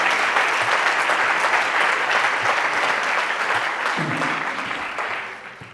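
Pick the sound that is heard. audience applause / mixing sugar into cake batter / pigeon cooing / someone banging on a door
audience applause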